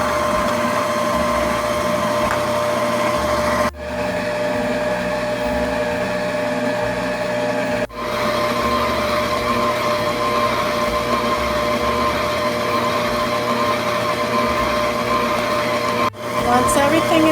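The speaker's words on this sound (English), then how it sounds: "Now you want to slowly add in your dry ingredients. And you're just going to keep mixing until everything is well combined." A Drew Barrymore Beautiful 5.3 qt stand mixer churning chocolate chip cookie dough, a loud, steady motor whir with a constant hum that holds throughout, dipping briefly a few times.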